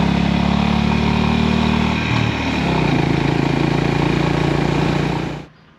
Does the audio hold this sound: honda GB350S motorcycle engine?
yes